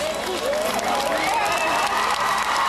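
A crowd in the main square of Ptuj, Slovenia, cheers and applauds continuously for an arriving guest. The clapping and voices are dense and loud, with a few shouts rising above the wash.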